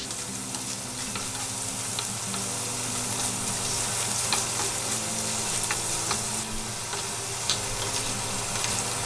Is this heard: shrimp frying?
yes